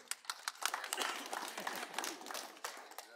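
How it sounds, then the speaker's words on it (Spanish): Audience clapping for a performer at a closing ceremony, a quiet, fairly distant patter of many hands that swells and thins over a few seconds. "fuerte el aplauso para Amadeus"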